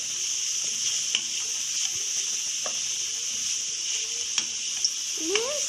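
Carrot rice sizzles steadily in a hot pan while being stirred, a constant bright hiss with a few soft scraping clicks of the spoon against the pan.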